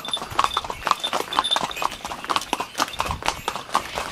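Horse hooves clip-clop in a quick, steady rhythm close by, with bright percussive hits repeating throughout, and an occasional faint voice underneath.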